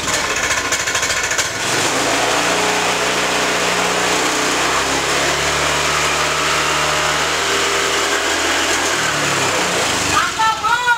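A racing motorbike engine runs steadily and loudly at close range, a dense sustained drone with a brief rise in pitch near the end.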